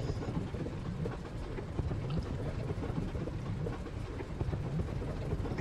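A Bf 109K-4 fighter's engine idles steadily at around 600 RPM in the DCS flight simulator, a continuous low rumbling drone with a faint uneven throb, close and unbroken, with no voices.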